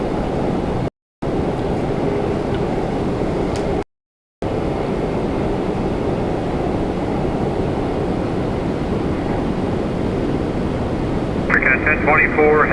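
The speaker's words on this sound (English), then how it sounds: "we got an RJ900, a Delta connection, Endeavour 5173 coming in from LaGuardia" A Delta Connection CRJ900 regional jet arrives at Toronto Pearson airport, its engines a steady, broad roar that holds near and loud throughout, with voices heard at times and two brief dropouts.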